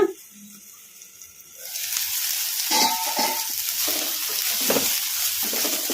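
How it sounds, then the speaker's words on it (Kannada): Cluster beans fry in a pan once the lid is lifted, a steady sizzle swelling after a quiet start and continuing loudly with occasional stirring. "ಚೌಳಿಕಾಯಿ ಚೆನ್ನಾಗಿ ಫ್ರೈ ಆಗಿದಾವಲ್ಲ"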